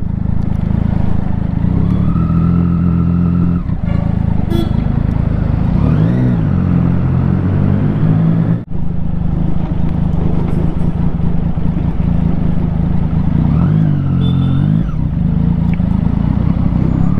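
A Triumph Street Triple 675 motorcycle engine drones loudly and steadily close by, with two smooth revs that rise and fall in pitch along the way.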